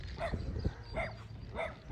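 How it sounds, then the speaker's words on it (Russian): A dog barks outdoors, three short, medium-loud barks spaced evenly about two-thirds of a second apart, with no other sound over them. "Why she barking?"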